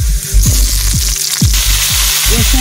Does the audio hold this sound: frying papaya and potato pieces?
yes